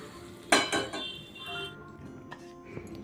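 Hot tempering oil poured over mango pickle masala for an instant pickle: a sharp metallic clatter of a pan and spoon, then a brief crackling splutter that fades into light scraping and clinks nearby.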